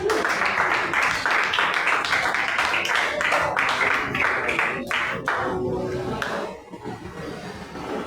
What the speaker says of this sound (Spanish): denle fuerte aplauso